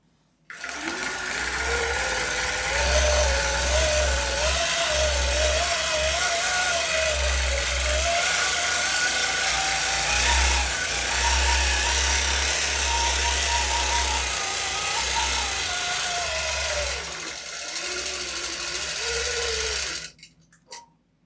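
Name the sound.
long arm quilting machine sewing a straight line on kantha quilt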